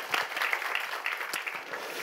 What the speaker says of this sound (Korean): 하나님께 영광의 박수